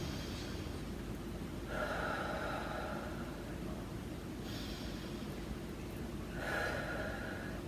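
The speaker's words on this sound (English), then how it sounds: "2 deep breaths here." Deep, slow breaths taken while holding a deltoid stretch of the arm during a pain-relief stretching routine, about three drawn-out breaths over a steady background hiss.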